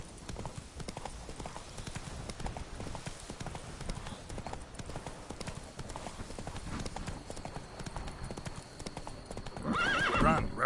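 Roach, the horse in the Witcher 3 game, galloping with a rapid steady hoofbeat under game music, ending in a loud neigh and whinny.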